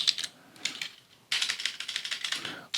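Rapid keystrokes on a computer keyboard entering a command, a short burst of clicks, a brief pause, then a longer run of close, crisp typing.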